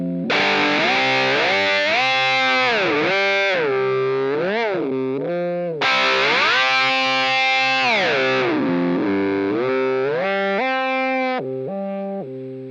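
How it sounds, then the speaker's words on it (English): Whammy pitch-shift effect sequenced through a Zoia patch, with portamento gliding between every note; a loud, distorted harmonic tone sweeps smoothly up and down in continuous slides, restarting after a brief gap partway through, with no talk. "When we change it to a positive value, you'll hear that it will glide every note."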